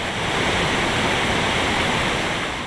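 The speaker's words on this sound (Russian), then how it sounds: "Ляжгинский водопад крупнейший в Ингушетии." The Lyazhginsky waterfall in Ingushetia pours down in a steady, dense rush of falling water, loud and continuous, with no voices over it.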